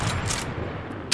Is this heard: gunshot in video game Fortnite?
yes